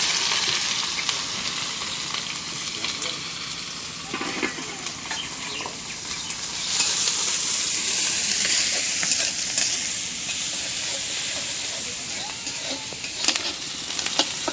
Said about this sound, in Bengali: পেঁয়াজ মরিচ ভেজে নিলাম